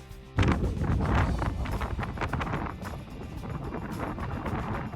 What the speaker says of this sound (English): it got so windy throughout the trek